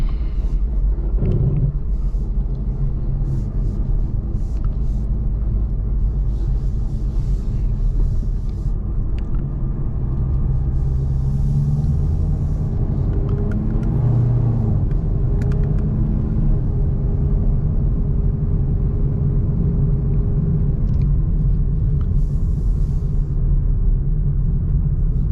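A Chevrolet Camaro ZL1 with a 900+ hp engine cruises with a deep, steady low rumble from the cabin, constant and smooth with slight swells, no one talking.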